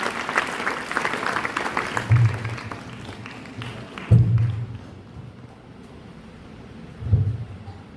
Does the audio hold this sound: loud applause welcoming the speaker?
yes